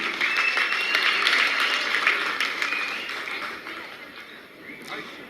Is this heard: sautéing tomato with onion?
no